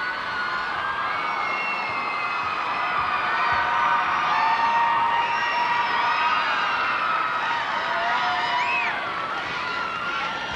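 Arena crowd at a 2001 gymnastics cup roars and cheers continuously, dense whoops and high shouts from many spectators blending into a steady loud wash.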